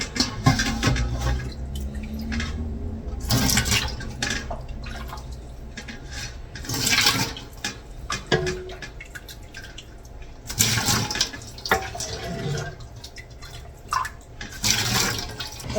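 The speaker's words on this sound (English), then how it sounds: "I'm gonna take my big stock pot and strain the broth through a fine mesh strainer" Chicken broth poured from a big stock pot through a fine mesh strainer, an uneven sequence of splashing pours and trickles with drips between them, close and fairly quiet, no talking.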